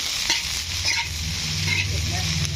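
Shrimp fried rice being stir-fried at a street stall in Pathum Thani, Thailand, with a steady loud sizzle of hot oil and repeated scraping and clanking of a spatula against the wok throughout.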